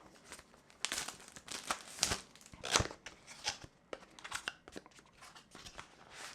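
Plastic film being peeled off microphone packaging during an unboxing, with close, loud bursts of crinkling and tearing arriving in irregular clusters amid short quiet gaps.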